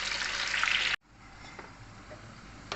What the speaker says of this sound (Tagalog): Prituhin natin siya. Tapos, mga sandali lang naman ang pagprito nito hanggang mag-brown.